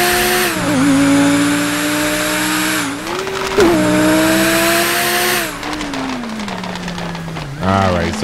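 A loud car engine in GTA 5 revs and roars continuously, its pitch rising and falling through gear changes, with a brief tire squeal near the end.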